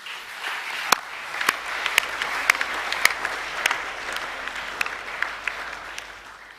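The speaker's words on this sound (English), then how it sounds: "Boys, can you please give your parents and families a round of applause?" Boys at a college academic awards evening applaud their parents and families, the hall filled with steady clapping and a few sharp, close individual claps standing out, gradually thinning toward the end.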